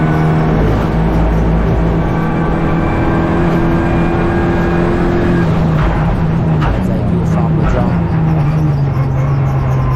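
Clio Cup race cars at a round in Slovakia, engines droning steadily on track with a sustained mid-pitched hum and gear shifts, heard beneath continuous commentary.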